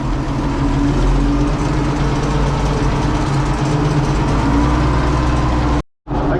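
An Ursus 1224 tractor's diesel engine runs steadily with a deep, droning throb from close by, continuous until a brief cut near the end; no one speaks.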